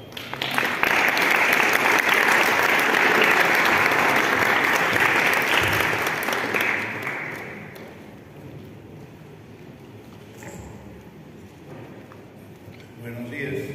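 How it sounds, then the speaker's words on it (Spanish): Audience applause at the opening of an academic event: sustained, loud clapping from a crowd for about seven seconds, then fading to quiet room murmur. "Fuertes aplausos."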